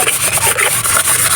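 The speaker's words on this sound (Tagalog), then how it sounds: "liha muna tayo" Sandpaper rubbed by hand on a 2015 Toyota Avanza during an engine top overhaul for overheating, quick rhythmic back-and-forth strokes, a loud close rasping scrape with no voices.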